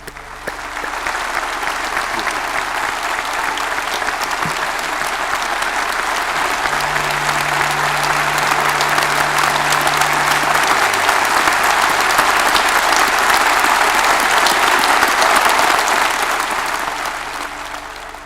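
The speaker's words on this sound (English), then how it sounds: "I'd now like to invite you all to join me in a round of applause to recognise the contribution of our graduates." Sustained audience applause at a university graduation conferring ceremony, a broad, even wash of many hands clapping that builds slightly and fades near the end, with a faint steady hum beneath.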